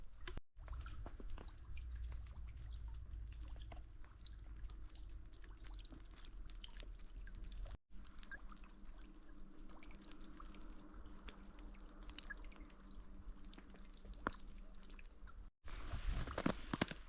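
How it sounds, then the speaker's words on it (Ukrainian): Meltwater from thawing snow drips from trees in a quiet winter forest during a December thaw, scattered soft drips and taps over a faint steady background. "бачите, як тут тане сніг, капає з дерев"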